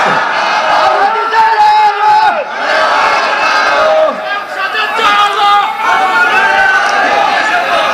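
A large crowd at an Islamic religious gathering (waz mahfil) in Bangladesh shouts takbir in loud, close, repeated collective calls of Allahu Akbar, overlapping voices rising and falling in waves.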